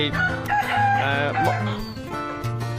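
Free-range domestic chickens raised outdoors on a farm, with a rooster crowing among them; a loud, steady run of crowing and clucking calls fills the whole stretch without any speech.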